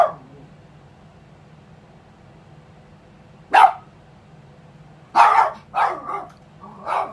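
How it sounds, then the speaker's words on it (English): Dog barking outdoors beyond a room, a single sharp bark followed by a cluster of three or four muffled barks at moderate distance over a low steady indoor hum. "He gone outside barking at somebody."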